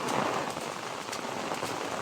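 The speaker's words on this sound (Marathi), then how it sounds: "आपल्या गावाकडे कसा पाऊस सुरू आहे" Heavy rain falls steadily on surfaces in a Konkan village, a dense, continuous close-up patter with no pauses or voices.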